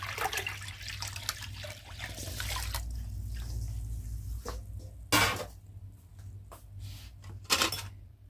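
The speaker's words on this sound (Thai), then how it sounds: "เราจะเติมน้ำส่วนที่เหลือ4ลิตรเราจะใช้เป็นน้ำดื่มทั้งหมดนะคะเทลงไปเลย" Drinking water is poured into a tub of grape wine mixture with a cream-soda style flavor, a steady splashing pour that thins out before a couple of brief louder splashes, no talking.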